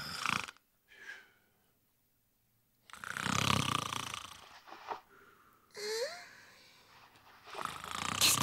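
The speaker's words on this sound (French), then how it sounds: "C'est peut-être bien moi qui me suis mis à ronfler." A bear cub snores in a cartoon: slow, raspy, wheezing breaths rise and fall across several cycles, with a brief whistling snort and pauses of near silence between them.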